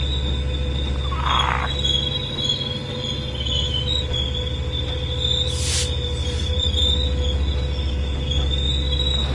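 Train wheels squeal in the video game Train Sim World 4, with a sustained high-pitched screech over a constant low rumble and a few brief hissing bursts.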